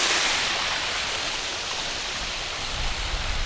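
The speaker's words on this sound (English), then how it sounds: "a little waterfall here." A small waterfall near a college library pours in a steady, close broadband rush of falling water, unbroken and alone for the whole stretch with no voices over it.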